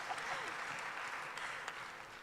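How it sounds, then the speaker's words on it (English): Audience at a large panel event clapping together in a steady, dense burst of applause, moderately distant and filling the room, with a faint cheer mixed in. "3 cheers for her. Please applaud."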